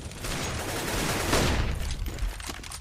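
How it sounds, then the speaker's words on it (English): Dense, continuous gunfire crossfire in a competitive shooter video game, a loud, steady barrage with no clear gaps over a couple of seconds. "That was a great crossfire coming out from Biggie and Steve there."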